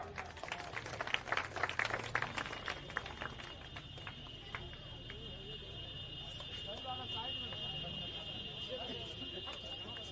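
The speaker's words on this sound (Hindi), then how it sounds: "इनके लिए भी जोरदार तालियां।" An audience at a public rally gathering bursts into clapping, a crowd of hands loudest in the first few seconds and then fading, while a high whistle-like tone and background murmur continue.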